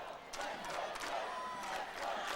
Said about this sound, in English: And the crowd imploring Joe Belgio, chance of let's go Joe